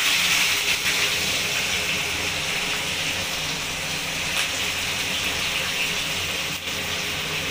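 Chopped onions go into hot oil that already holds black pepper and cardamom. A loud, steady broadband sizzle hisses without a break throughout.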